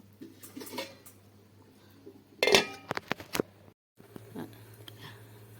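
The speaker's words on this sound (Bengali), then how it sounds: "এবার আমি এটা ঢাকা দিয়ে 5 মিনিট ফুটতে দেব।" A metal lid clanks and rattles onto a pot of cooking taro stolons in a cluster of sharp, ringing clinks midway, preceded by faint kitchen handling noise and followed by a short silence and a low simmer.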